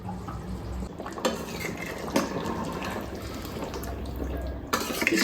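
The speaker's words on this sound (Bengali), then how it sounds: "আমি ঢাকাটা তুলে নিচ্ছি।" Lid lifted off a pot of simmering chicken curry: a few sharp metallic clanks ring out over a steady, low bubbling and clatter of the pot nearby, with no speech.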